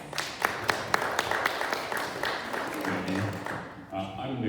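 Scattered, fairly light applause from a modest audience at a community panel event on brain injury, distinct individual claps fading out as a voice begins to speak.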